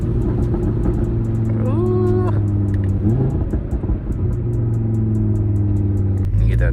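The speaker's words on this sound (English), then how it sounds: "That turbo noise." A turbocharged BMW 435i wearing M4 badges and M Performance parts drones loudly under acceleration, with engine tones sweeping up through gear changes and a steady rumble. Faint talk sits beneath the engine.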